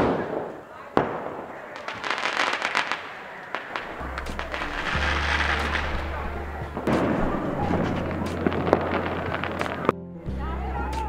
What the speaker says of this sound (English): I can hear firecrackers.